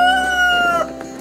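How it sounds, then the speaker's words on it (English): A rooster crows loudly and close by, one long sustained cock-a-doodle-doo, followed by softer ambient farm noise. "That's one loud cock-a-doodle-doo."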